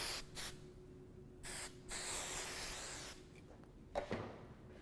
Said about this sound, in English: Giving it a nice spray.